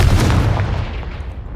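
A Confringo blasting spell explodes in the video game Hogwarts Legacy: a loud, close booming blast hits at once, then its rumbling roar fades away over about a second and a half, with no talk.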